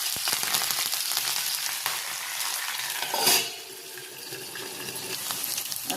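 Chillies sizzling in hot tempering oil for vati dal khaman, a steady crackling sizzle at moderate level, with one brief louder surge of hiss midway before it settles back to a softer, continuous fizz.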